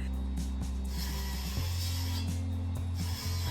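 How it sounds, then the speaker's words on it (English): Neighbours drilling outside, a steady mechanical whir with a low hum that shifts pitch partway through, continuous and fairly loud with faint clicks and ratcheting. "My neighbors are drilling outside."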